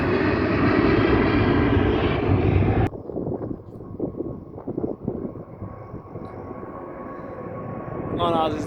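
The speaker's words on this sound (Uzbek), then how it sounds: "Emirates samolyot. Aeroplaniki. Ketdi." Emirates airplane taking off at an airport, a loud roaring jet engine that cuts off abruptly, followed by quieter wind and handling noise with a faint lingering hum.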